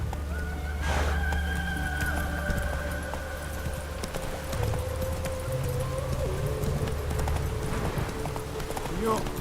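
Roach the horse galloping in The Witcher 3, steady clip-clop hoofbeats with an occasional whinny, close and continuous under game music and a voice speaking.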